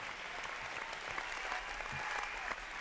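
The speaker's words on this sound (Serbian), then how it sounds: "molim vas još jedan veliki aplauz za njega" Steady applause from an audience at a film festival closing ceremony in Niš, a dense crowd clapping continuously at moderate distance for a few seconds.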